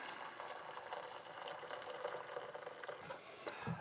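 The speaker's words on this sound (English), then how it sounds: "Now I'm going to add some boiling water to a pan." Boiling water poured into a cooking pan while making beef goulash, a continuous bubbling, hissing rush, quiet and close, with no talk.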